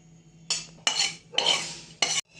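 Spice mix stirred into a kadhai coated with asafoetida for a mango pickle: four distinct bursts of spoon scraping and clatter against the pan, close and fairly loud, with brief pauses between strokes.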